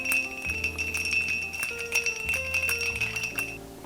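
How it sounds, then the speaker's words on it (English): Ice cubes clink and rattle against a glass as a bourbon cider cocktail with orange bitters is stirred, a run of quick bright ticks close up over a steady background tone. "I'm gonna give it a little stir."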